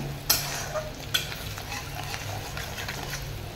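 Spices and chili powder, including Kashmiri chili powder, are sautéed in a pan with a soft, continuous sizzle, and two sharp utensil knocks against the pan come early on.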